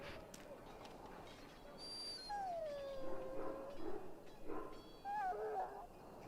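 An injured dog in the fantasy role-playing game Dragon Age: Origins whimpers and whines softly, high wavering cries repeating several times over a quiet background.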